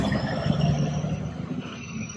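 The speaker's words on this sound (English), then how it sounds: "you can hear the wonderful construction truck next door." Low rumbling engine of a construction truck working next door, steady and moderately distant outdoors over a garden, with no talk.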